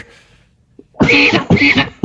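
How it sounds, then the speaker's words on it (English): A man coughs twice, loudly and close to the microphone, in harsh bursts, followed by a short third cough on a podcast. "I don't mean to cough in your ear"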